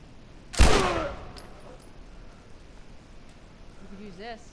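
A single loud, close gunshot in The Last of Us Remastered bursts out and decays quickly, followed by quiet ambience and a brief voice near the end.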